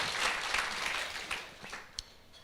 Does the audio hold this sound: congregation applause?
yes